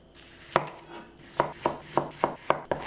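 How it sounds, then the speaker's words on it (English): A knife chops onion and ginger on a cutting board, giving seven or eight crisp, close knocks at an uneven, unhurried pace with quiet gaps between them and no voices. "we are going to cut up our onion as well as the ginger"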